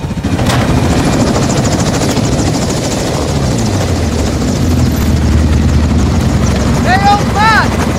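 Helicopter from the Call of Duty MW2 video game, a loud steady rotor and engine drone running throughout, with a pitch sweep midway and short electronic beeps near the end.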